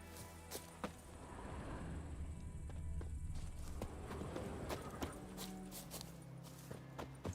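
Hooves of Geralt's horse Roach clip-clopping in The Witcher 3 video game, a steady walking rhythm of soft thuds over a quiet ambient background, fairly faint.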